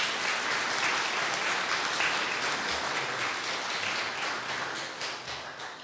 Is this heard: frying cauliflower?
no